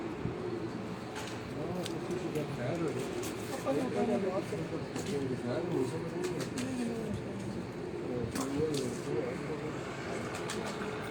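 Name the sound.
pigeons cooing on a rooftop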